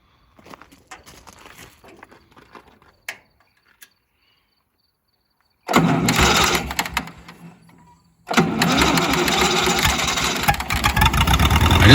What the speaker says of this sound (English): Turning it over a few times, she fired right up and stayed running after my second attempt.